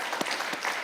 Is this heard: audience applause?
yes